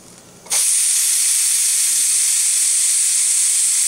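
A pressure cooker cooking brown rice pilaf with sprouted mung beans suddenly vents steam, a loud sharp hiss bursting on after a quiet moment and holding steady without letup, with no talking.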